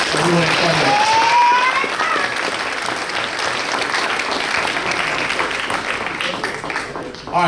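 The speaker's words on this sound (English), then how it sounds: "Another round of applause for everyone at Sunday." Dense, loud applause from an audience at a boys lacrosse team banquet, steady clapping sustained throughout with voices and cheers mixed in before it tapers slightly at the end.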